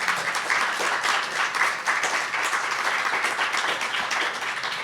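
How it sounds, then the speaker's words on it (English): An audience applauds panelists after a discussion on virtual reality in organisations, a thick burst of clapping close and loud that thins slightly toward the end. "Just a round of applause for our panelists."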